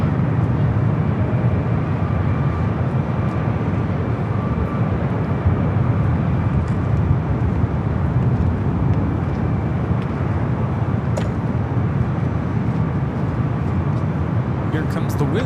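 An airliner on the Osaka flight moving at LAX, a broad, steady jet engine roar that stays loud and constant, mixed with distant traffic, with people talking over it.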